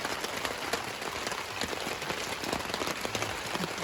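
Rain falls steadily in a continuous patter, a dense spread of drops striking surfaces at moderate loudness, with no voices.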